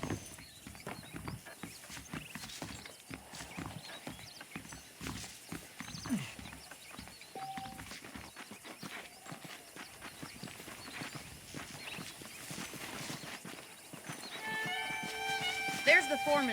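Horse hooves in the video game Red Dead Redemption on PS5 clop in a steady, quick rhythm, mixed with game ambience and voices.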